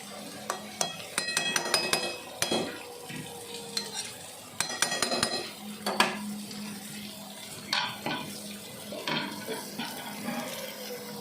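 Potatoes stirred in a cooking pot in a home kitchen, with irregular clinks and scrapes of a metal spoon against the pot over a faint sizzle, coming in short bursts with pauses; no voices.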